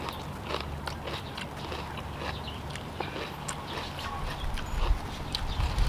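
Crunchy three-colour bell pepper being bitten and chewed up close, a steady run of crisp, wet crunches that keeps going without a break.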